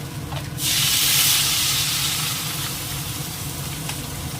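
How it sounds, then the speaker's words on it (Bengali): A pot of curry boiling, with a steady bubbling hiss that swells loudly for a moment near the start and then settles into a continuous, moderately loud simmer, close by and with no talking. "বন্ধুরা তরকারিটা যে ফুটে উঠেছে"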